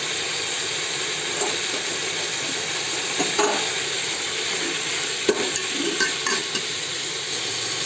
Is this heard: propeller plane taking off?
no